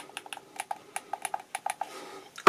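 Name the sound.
clicking in the thumbstick on a Hori Split Pad Pro controller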